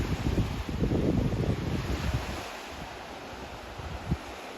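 Baltic Sea waves wash steadily against a shore in Denmark with rough wind buffeting the microphone, louder at first and then settling into a softer surf.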